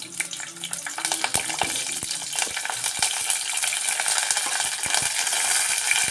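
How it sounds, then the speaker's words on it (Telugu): Dried red chillies and curry leaves fry in hot oil for a lentil broth, a continuous close crackling sizzle with sharp pops and a few stirring knocks, and nobody speaking. "ఎండుమిరపకాయలు ఒలిచి పెట్టుకున్నాను, అవి వేసేస్తున్నాను. అలాగే కరివేపాకు"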